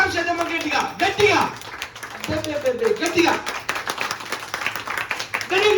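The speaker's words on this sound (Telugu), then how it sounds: "క్లాప్ చేద్దాం" Audience members clap together to celebrate a weight-loss result of 17 kilos, a ragged burst of handclaps mixed with loud talking and cheering voices throughout.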